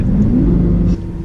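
Low, steady engine rumble from a Lamborghini, loud and close, holding for about a second before dropping slightly quieter, with no talking over it.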